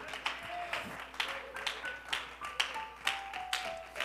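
A church congregation applauding during a sermon, clapping together in a steady rhythmic beat, sharp evenly spaced claps at moderate level with faint tonal sounds in the background.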